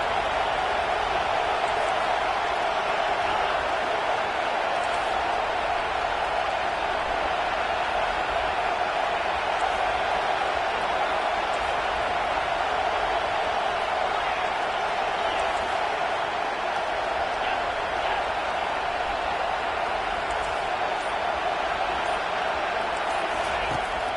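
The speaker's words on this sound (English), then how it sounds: "how nice is it to have the home crowd going absolutely bananas?" Home crowd in a college football video game roaring loudly and continuously, a dense, unbroken wall of cheering with speech mixed in throughout.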